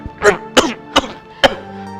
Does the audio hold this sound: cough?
yes